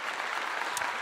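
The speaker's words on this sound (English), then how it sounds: "I give you a clap." Brief burst of crowd clapping, a steady dense patter lasting about a second at moderate level with no voices over it.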